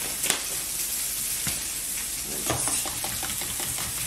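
Onion powder, minced onion and steakhouse seasoning are stirred together, with soft scraping and shuffling strokes repeating close by.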